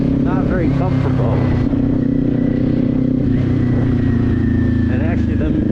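A motorcycle ridden in cold weather, its engine droning loud and steady with shifting pitch as it revs up and down, wind rush constant throughout, and a voice talking over the ride.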